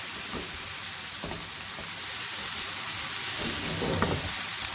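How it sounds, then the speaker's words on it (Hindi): Vegetables for a rice dish frying over high heat, a continuous loud sizzle and hiss with occasional stirring scrapes rising toward the end, no voices. "इनको थोड़ा सॉफ्ट होने तक मैं इसको फ्राई कर रही हूँ।"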